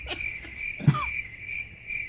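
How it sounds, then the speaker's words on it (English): Crickets chirp in a steady, shrill trill that carries on throughout, with a single soft thump partway through and no voices over it. "Crickets. Crickets. Yep. Crickets."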